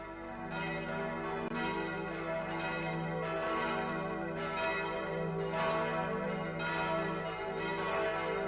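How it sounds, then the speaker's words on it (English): Church bells of Notre Dame cathedral peal continuously in a cartoon film, a dense, ringing wash of overlapping strikes swelling in regular waves over a steady low hum, with no voices. "the bells of Notre Dame still pealed out"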